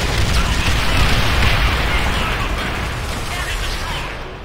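A loud explosion in Call of Duty: World at War during a Little Resistance mission, a dense, sustained roaring blast that fills the whole stretch and slowly tapers off.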